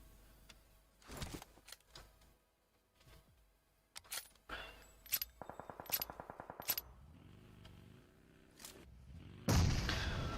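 PUBG Mobile gunfire: scattered single sharp shots, then a rapid burst of automatic fire, more isolated cracks and a louder noisy blast at the end, all fairly quiet and without talk.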